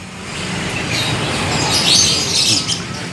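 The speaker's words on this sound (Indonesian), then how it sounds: "Demikian stok burung di toko burung Mbak Dwi Kenari sore ini" Birds chirping inside a bird shop stocking canaries, lovebirds, parakeets and doves, a dense overlapping chorus of bright tweets rising over a steady background hum.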